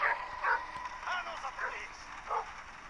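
In a video game, a dog gives a run of short, high yelps and whimpers that repeat at uneven intervals, each one clear above a low, quiet background.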